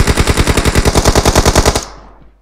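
Sustained automatic gunfire in PUBG Mobile, a steady fast rhythm of about twenty evenly spaced loud shots close by, ending abruptly and followed by a short fading tail.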